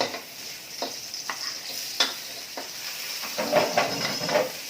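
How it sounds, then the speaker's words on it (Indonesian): Sausage and seasonings being stir-fried in a home kitchen pan, a steady close sizzle broken by repeated scraping stirs and clinks of the spatula. "masak tumis-tumis ala-ala lah"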